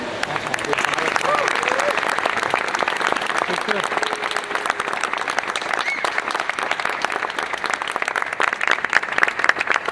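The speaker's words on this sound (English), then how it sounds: "you guys really ought to give yourself a round of applause" Audience applause at the RoboCup Rescue 2015 final results in Hefei, China, a sustained wash of clapping from a hall crowd, fairly loud and continuous, with a voice speaking over it at times.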